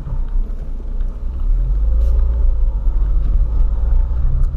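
Ford Fiesta engine rumbling from inside the car while driving, a loud steady low drone with road noise and no talk.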